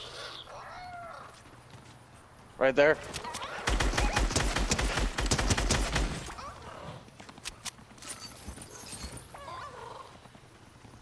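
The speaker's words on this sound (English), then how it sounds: "There's a donkey around here somewhere." Donkey hooves clip-clopping in a video game, a quick, even run of hoofbeats lasting a couple of seconds against faint game ambience, with a brief spoken voice shortly before.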